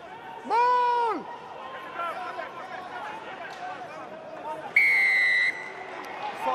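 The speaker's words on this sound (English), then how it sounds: "Loud blast on the whistle from Ewan Cross." Two shrill referee whistle blasts, one short and one longer, ring out over crowd noise and commentary at an Ospreys vs Lions rugby match.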